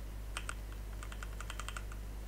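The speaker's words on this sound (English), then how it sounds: "You can type on the typewriter." A typewriter in the Roblox horror game Doors clacks out a quick run of about a dozen keystrokes, crisp and close over a constant low background drone, with no voices.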